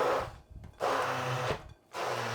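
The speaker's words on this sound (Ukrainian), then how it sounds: "Блендером це все перебиваю." A kitchen blender purees chickpea paste with spices, dried garlic and lemon juice in three loud whirring bursts separated by brief pauses.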